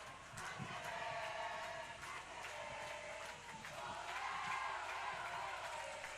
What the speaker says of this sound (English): nothing but celebrations in this Angeles crowd